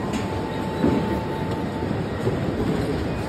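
A passenger train runs steadily with a continuous rolling rumble and faint clatter of wheels on rails, heard from inside or nearby, with no clear talk.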